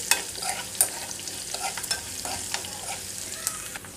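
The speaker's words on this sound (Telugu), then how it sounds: "మనకి ఆవాలు కొంచెం చిటపటమంటే సరిపోతుంది." Mustard seeds splutter in hot tempering oil for a gongura chutney, with faint, scattered sharp pops and crackles over a low, quiet sizzle, heard up close with no talk.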